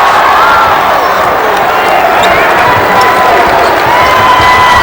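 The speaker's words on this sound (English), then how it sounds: "Crowd starting to get into it here" A packed college basketball arena crowd at a 2007 Bradley Braves at Evansville Aces game roars and cheers in a loud, steady wall of noise that never lets up.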